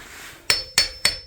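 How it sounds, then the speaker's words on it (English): A hammer beats on a part from a CR250R motorcycle engine during a rebuild, three sharp, close metallic blows evenly spaced with a ringing tone after each strike. "Just beat it out, right? Yeah, beat it out. Hammer."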